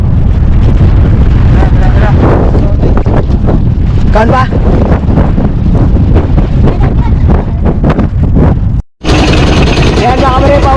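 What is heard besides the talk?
strong wind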